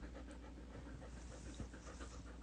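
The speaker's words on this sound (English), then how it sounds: "So if you hear breathing in the background, it's her." A pet dog named Zena pants quickly and steadily close by, soft rhythmic breaths over a low indoor hum on a rainy day, with no one talking.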